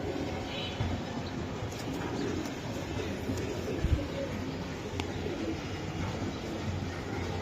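Giribaz racing pigeons from a club loft coo softly amid a steady wash of background noise, with no clear individual calls standing out.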